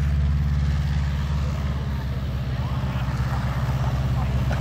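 A Long EZ aircraft passes at an air show with a loud, steady low engine drone, heard from a distance amid broad outdoor noise.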